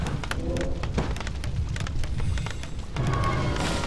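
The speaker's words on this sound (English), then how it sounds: "Another breath of fire from the Panda" The Panda's Breath of Fire spell in the Warcraft III video game lets out a crackling, rushing burst amid busy battle noise, swelling loudly near the end.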